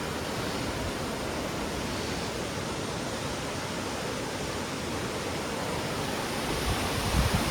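A brimming river near Aralam Farm in Kannur, flowing full and rushing as a steady, loud, broadband wash of water that holds evenly throughout with no voices.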